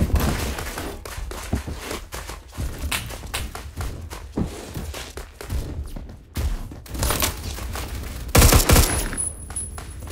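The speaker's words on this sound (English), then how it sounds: "Oh, it's a machine pistol." Machine pistol gunfire in the Phantom Forces video game, rapid bursts of shots with thumps and taps in between, with a louder dense burst near the end.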